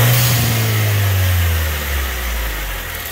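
A 2015 Nissan Juke Nismo RS with a freshly installed GFB blow-off valve runs close by, a steady low engine drone settling toward idle with a slight falling pitch and no voices.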